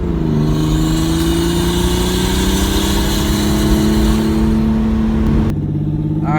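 A Chevrolet Cavalier's engine drones steadily while driving, a loud, close, continuous hum with a slight rise in pitch, then easing off near the end; no talking.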